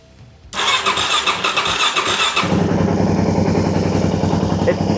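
A motorcycle with an unbaffled exhaust pipe starts up after a moment of quiet. It catches with a loud burst and settles into a heavy, steady, close-up engine rumble.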